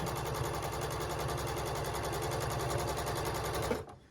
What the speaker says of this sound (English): you just want to follow your presser foot right here on the side. You're going to go all the way around to where that mark is that we made